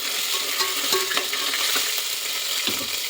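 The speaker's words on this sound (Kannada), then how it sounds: "ಈಗ ಅದನ್ನು ಫ್ರೈ ಮಾಡಿ ಒಂದು ಸ್ವಲ್ಪ." Ginger garlic paste frying in hot oil for a chicken curry, a steady close sizzle with a few soft scrapes and taps of stirring scattered through, no voices.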